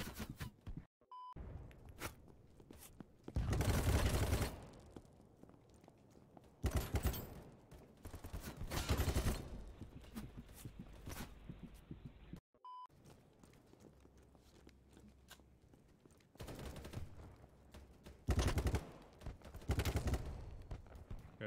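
Bursts of automatic gunfire from a gun in BattleBit ring out in several loud volleys, separated by quieter stretches of footsteps and movement.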